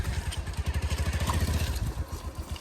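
A motorcycle engine chugs with a steady pulsing beat while the bike is pushed out along a rough, broken road, the low throb loud and close throughout.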